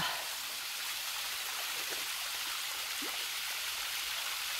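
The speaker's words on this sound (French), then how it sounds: "Une petite cascade." A small waterfall on the GR65 Compostela trail from Le Puy-en-Velay rushes with a steady, even hiss of falling water, constant and moderately loud throughout with no voices.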